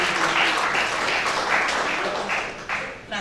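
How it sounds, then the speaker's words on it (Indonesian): A church congregation applauds in a full, sustained round of clapping that tapers slightly near the end, with a voice faintly heard over it. "Berikan tepuk tangannya bagi Tuhan."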